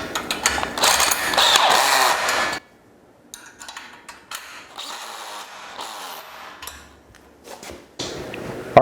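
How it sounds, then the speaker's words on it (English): A bolt and nut are ratcheted together while a metal stand for a DeWalt 10-inch job site table saw is assembled: a loud burst of ratcheting clicks, then quieter scattered clicks and clanks, then another burst near the end. "Assembling the stand couldn't be much easier. Got 4 bolts and 4 nuts."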